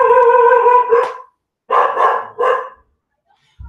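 A dog barks and howls loudly nearby in two bursts, a drawn-out howling bark followed after a pause by a pair of shorter, higher barks, with no talk over it.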